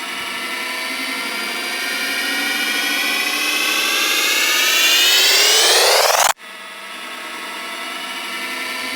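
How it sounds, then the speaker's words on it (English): A crash riser sound effect, heavily pitch-shifted, sweeps steadily upward in a loud, dense rush for about six seconds, cuts off abruptly, then continues as a flatter sustained wash. "let's play our crash riser"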